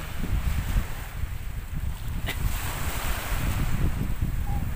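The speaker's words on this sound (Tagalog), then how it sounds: "medyo mahangin lang" Gusty wind rumbling across the microphone near the sea, with a constant wash of surf underneath and no voices.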